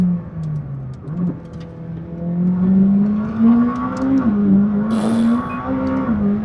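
McLaren 600LT supercar engine revving hard under full throttle, a loud, rising, continuous roar that climbs steadily in pitch with a brief dip early on and a sharp shift-like blip near the end.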